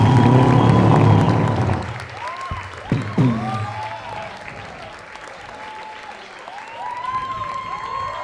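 A studio audience bursts into loud, sustained applause and cheering to welcome a woman onto a Colombian talk show set; the clapping fades after about two seconds into scattered claps, whoops and whistles that linger alone.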